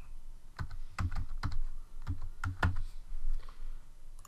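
Fingers type a server IP address on a computer keyboard: a short burst of quick, irregular key clicks, close and clear against a quiet background.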